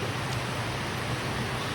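Steady rain falls on a pineapple farm as a broad, even hiss with no distinct drops or voices standing out.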